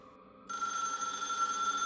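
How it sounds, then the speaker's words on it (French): A telephone starts ringing after a short pause: a continuous, bright electronic ring that is clear and fairly close, with no voices over it. "Le téléphone sonne."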